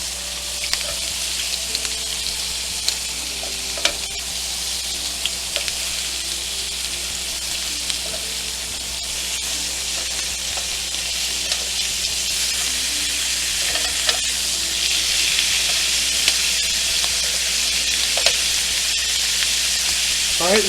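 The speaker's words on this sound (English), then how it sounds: "Go ahead and flip these bad boys over." Butter lemon shrimp sizzle on a grill, a continuous close crackle and hiss with scattered pops and utensil clicks over about twenty seconds.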